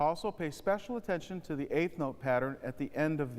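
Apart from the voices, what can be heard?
None of the usual background noises is heard.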